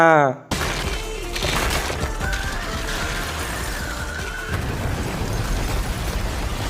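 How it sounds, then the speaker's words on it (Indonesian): A sudden loud crash of breaking, crumbling material bursts in after a brief quiet, then a dense rumbling debris wash continues with a tonal whine over it. "tiba-tiba tembok bekas tembakan Rudo tadi ambiar coy"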